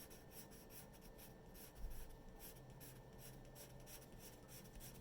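Pencil tip scratches across paper while tree branches are sketched, a steady, soft rasping of short repeated strokes that runs continuously and close, with no voices.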